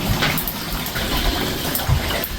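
Water rushes down through household plumbing pipes in a basement in a steady, close gushing flow with a few soft knocks, fairly loud and without speech.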